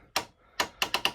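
Four sharp ratcheting clicks from the joint mechanism of a Newage Transformers G1-style toy figure, close and clear: one, a pause, then three in quick succession, with no talking.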